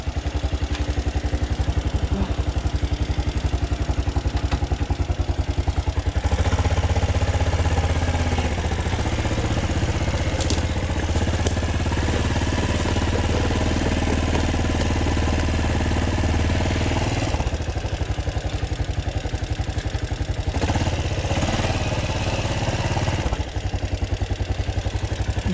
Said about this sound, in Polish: Tylko teraz sobie wezmę piłę.